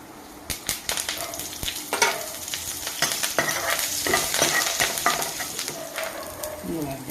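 Oil sizzles in a pan while tempering a cucumber and peanut chutney, a close crackling hiss with irregular clinks and scrapes of stirring, no voices.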